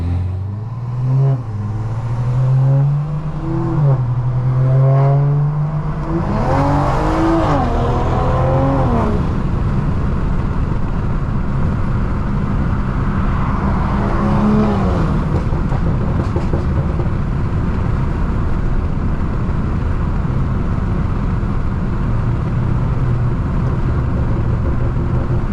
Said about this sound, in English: this car has a lot of drone when you straight pipe and throw a down pipe on